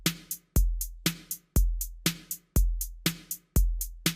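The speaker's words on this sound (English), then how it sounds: "Let's say that I only want reverb on the snare." Programmed drum loop built in Ableton with reverb applied only to the snare: punchy dry kicks alternating with snare hits that bloom into a wash of reverb tail, repeating in a steady, even pattern.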